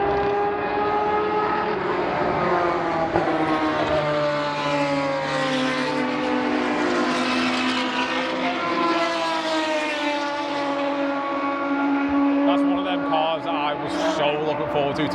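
Classic race cars at speed through the forest section of the Spa circuit during a historic racing event, their engines a loud, continuous roar whose pitch rises and falls as they pass close by.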